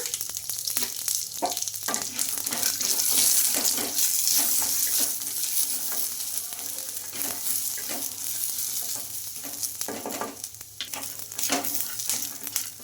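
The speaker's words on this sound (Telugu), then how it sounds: "చిన్నగా కట్ చేసుకున్న అల్లం ముక్కలు ఒక ఇంచు ఇవన్నీ వేసేసుకొని బాగా ఫ్రై చేసుకోవాలి" Small ginger pieces frying in oil in a pan, with a steady, close crackling sizzle and occasional scraping stirs, continuous and without voices.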